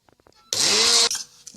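Electric grinder whirs loudly for about half a second while grinding fava beans, a sudden steady motor burst that cuts off abruptly, with faint clicks before and after.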